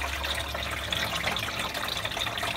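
Tap water pours steadily into a kettle, a continuous close gushing and splashing without a break.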